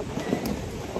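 Strong, cold wind blows outdoors, buffeting the microphone with a low rumbling roar and brief gusts.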